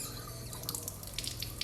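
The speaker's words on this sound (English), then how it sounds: "we can now turn on the water and make sure to adjust its force" Tap water runs into a sink during a handwashing demonstration, a soft, steady rush with light splashing drips and patters, faint and close, with no talking.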